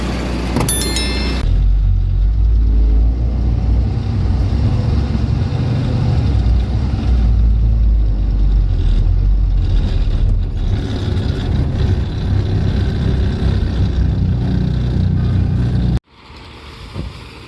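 A truck's engine being driven onto a weighbridge at a tyre factory rumbles loudly and steadily at close range, then cuts off abruptly near the end, leaving a quieter background.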